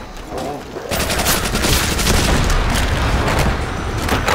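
An MG42 machine gun fires a loud, sustained burst in the Call of Duty: World at War zombies mode, a dense rapid stream of gunfire after a brief quieter moment.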